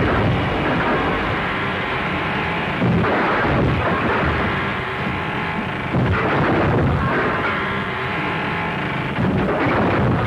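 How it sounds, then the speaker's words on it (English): Gunfire from a window in a 1935 western film: loud, heavy shots boom roughly every three seconds over a dense, noisy old soundtrack. "Firing at him from the window."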